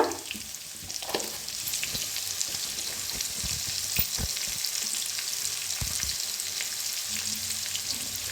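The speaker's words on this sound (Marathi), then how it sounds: "2 हिरव्या मिरच्या कापून घेतल्या होत्या, छान भाजून घेऊया। थोडंसं हिंग," Sliced green chillies and a pinch of asafoetida fry in hot oil in a pan, a steady close sizzle with a few soft stirring knocks, no voices.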